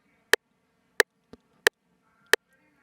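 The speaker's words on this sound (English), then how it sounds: "it's going to be a 90 BPM 4/4 click" A Pro Tools click track at 90 BPM in 4/4 ticks steadily, four loud sharp clicks with one softer click between them, evenly spaced and isolated.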